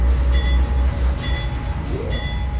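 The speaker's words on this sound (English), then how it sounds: "It's a train, obviously." A train running in the Trainz 2022 video game, a steady loud low rumble with faint recurring high tones and a brief rising squeal near the end, no voices.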